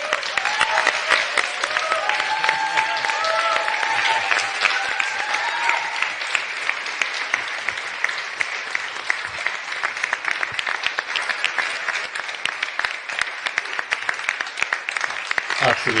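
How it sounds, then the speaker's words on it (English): A large press-conference audience at the ESA Astronaut class 2022 event gives a sustained round of applause, dense steady clapping lasting the full stretch, with faint voices and a bit of talk early on. "round of applause for David."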